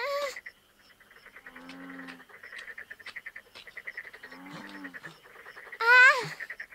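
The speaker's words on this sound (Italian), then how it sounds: "Ah, sono rane bue" Bullfrogs croak steadily at night in a rural outdoor setting, a dense rhythmic chorus of low throbbing calls with deeper honking croaks rising twice, and a brief high cry near the end.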